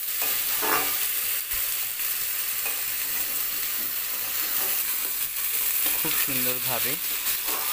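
Potatoes, taro and onions with turmeric stirred and fried in a kadai: steady close sizzling broken by scraping spatula strokes and clinks, with a brief faint voice near the end.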